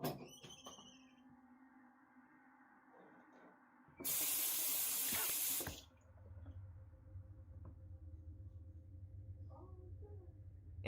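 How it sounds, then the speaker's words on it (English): A bathroom sink tap suddenly bursts on at full blast, a loud steady rush of water lasting about two seconds before cutting off, with quiet room noise around it. "the bathroom sink turns on full blast all by itself"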